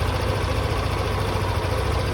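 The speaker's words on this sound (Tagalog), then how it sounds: "Napaka-stable na po ng RPM. Napakaganda na ng tunog ng makina." A Yamaha Aerox scooter engine idles steadily at stable revs, a close, continuous low rumble with a fine rapid pulse and no talk over it.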